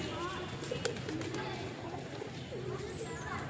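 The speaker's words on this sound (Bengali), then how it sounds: "এখানে দেখুন কতগুলো পায়রাকে খেতে দেওয়া হয়েছে, ওরা খাচ্ছে।" Pigeons coo softly while feeding amid a dull outdoor background in Halisahar, with faint flutters and murmuring voices nearby.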